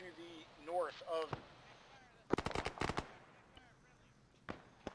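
Rapid bursts of gunfire from the military game ARMA 3, a tight cluster of sharp shots followed by a couple of isolated reports, with radio-style voices speaking just before.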